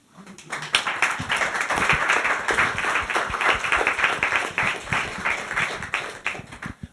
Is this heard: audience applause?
yes